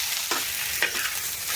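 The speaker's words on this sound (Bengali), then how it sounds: "এই যে মাছ ভাজা হয়ে গেছে" Tilapia fish fries in hot oil in a pan with a bright, continuous sizzle, broken by a couple of quick spatula scrapes as the pieces are moved, with no speech.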